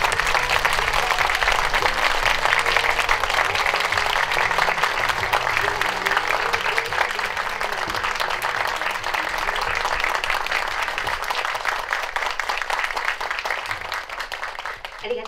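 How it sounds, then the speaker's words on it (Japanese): A theatre audience claps loudly to welcome an actress and a film director onto the stage at a film premiere greeting event in Osaka, with dense steady applause lasting throughout and a faint voice underneath. "皆様大きな拍手でお迎えください"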